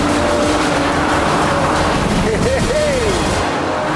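BMW Z4 and Nissan 350Z sports cars racing on a track, a steady loud engine roar with a rising and falling whine near the end, under an ongoing commentator's voice.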